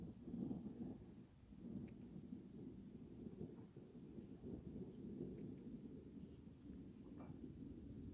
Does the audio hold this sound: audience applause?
no